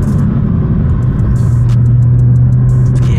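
Steady low engine drone of a Nissan R35 GTR, heard from inside the cabin, a continuous rumble with a faint rising tone holding near the end and no talk.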